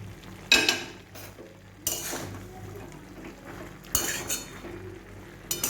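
Ridge gourd and eggplant are stirred in a pan, with a metal spoon clinking and scraping against the cookware in a few sharp strokes over a low background.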